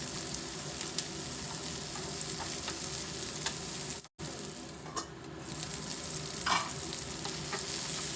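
Sliced onions and coconut pieces fry in a pan for a dhaba-style egg masala, a steady close sizzle with occasional stirring scrapes, broken by one brief dropout midway before the frying resumes.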